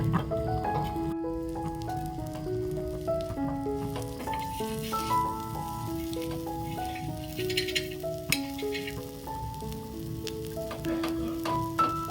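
Egg and cabbage fry in a pan with a steady soft sizzle, partly masked by a melodic music track playing over it throughout.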